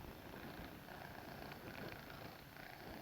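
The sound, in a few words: cat purring while being petted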